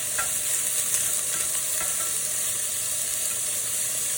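Chopped, butterflied chicken pieces fry in hot coconut oil, a steady close sizzle with faint scraping as the pieces are spread out, no one talking.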